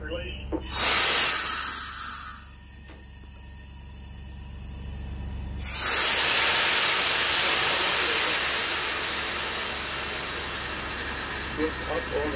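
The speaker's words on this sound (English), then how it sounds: "Mover, rail brake release." Santa Fe 2926 steam locomotive releasing its brakes, with loud bursts of hissing air that swell and fade, then a long sustained hiss over a steady low rumble, close by.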